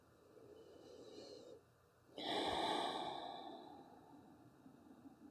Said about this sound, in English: one more breath cycle here